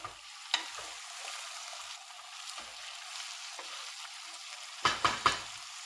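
Swiss chard sautéing in a pan, a soft steady sizzle with occasional scraping stirs and a cluster of louder clattering stirs near the end, close and without talk.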